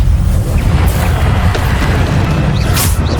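Bombarda blast spells in Hogwarts Legacy detonate with a loud, continuous booming roar and crackling debris, dense and close throughout.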